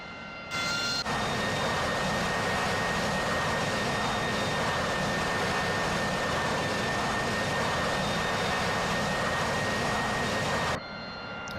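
A Harrier jet taxis in the flight simulator game DCS with a loud, continuous jet engine whine and rumble. The sound holds steady through most of the stretch and cuts off abruptly near each end.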